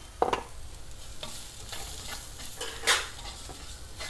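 Onions softening in oil in a pan, with crushed chilli about to go in, sizzling under a spatula: a soft steady fry with a few scraping stirs and clinks, quiet and close, no voices.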